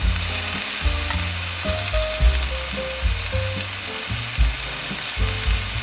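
Broccoli stir-fried into chicken fried rice in a hot pan, a steady loud sizzle with repeated scraping and tossing clatter from the utensil, close up and continuous with no talking.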